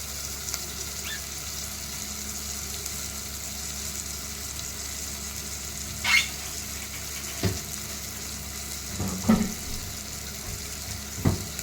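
Vegetables cook in hot oil with a low, continuous frying sizzle. A few soft stirring clicks and clatters stand out near the end. The sound is close but quiet, and no voice is heard.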